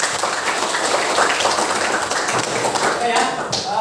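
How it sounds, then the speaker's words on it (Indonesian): A class of students claps together in a schoolroom, a busy patter of many hands close by with voices mixed in. "Oke, tepuk tangan."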